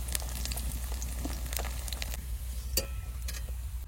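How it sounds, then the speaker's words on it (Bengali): Poppy seed fritters (posto bora) fry in a pan, giving a steady close sizzle with scattered crackles and pops under a low background hum. "হয়ে গেল পোস্তর বড়া ভাজা"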